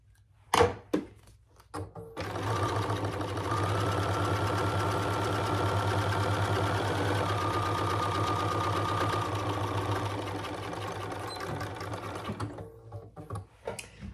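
A sewing machine stitches a case for bag hardware, running at a steady, loud, continuous hum for about ten seconds, with a few thunks just before it starts and the motor winding down at the end.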